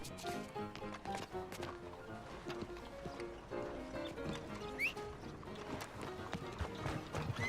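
Horse hooves clip-clop steadily in a video game, a continuous rhythmic clatter of moderate loudness under other game sounds and faint background noise.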